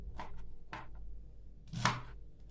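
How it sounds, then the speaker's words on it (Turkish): An onion is chopped on a board into a pot, giving three or four crisp knife strikes with uneven gaps, close and clear against a quiet kitchen background. "Soğanını doğruyorum."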